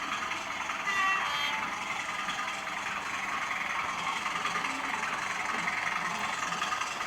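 Bachmann Class 20 model diesel locomotive hauls a small mixed freight train over insulfrog points on a model railway, giving a steady faint motor whir and wheel rumble with no talk.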